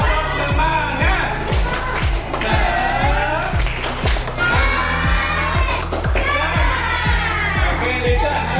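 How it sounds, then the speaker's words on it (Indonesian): A school class performs a rhythmic spirit clap together, steady evenly spaced beats repeating throughout while children chant and shout along loudly in a room. "Bapak mau kasih tepuk lagi sekali lagi ya. Tepuk semangat"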